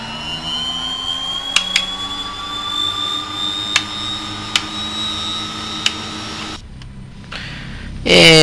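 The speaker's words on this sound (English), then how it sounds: "And let's just go ahead and start her up. So we'll start both engines up." The engines of a DHC-6 Twin Otter spin up with a loud, rising turbine whine that climbs steadily in pitch, along with a few sharp clicks. Near the end it drops into a brief lull before a loud burst returns.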